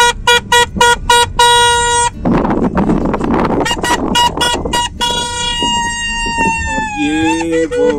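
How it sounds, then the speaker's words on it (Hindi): Vehicle horns honking again and again on a road near a mountain temple in Mandi district, loud and close, in repeated bursts of short and long blasts, with a stretch of engine and traffic noise in between. "ये वहाँ पे हॉर्न बजाते बजाते दूसरी गाड़ी वालों को डरा रहा है बंदा"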